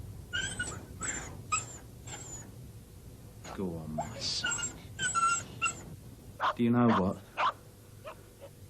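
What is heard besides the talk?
dog barking and whimpering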